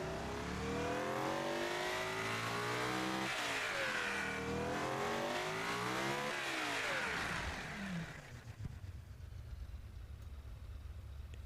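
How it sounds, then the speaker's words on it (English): Supercar engine in the video game Automation revving: a loud, harmonically rich engine note that climbs, drops and climbs again with a rattly edge, then falls away to a low rumbling idle for the last few seconds. "It's quite a different sounding engine to ones that I have built before"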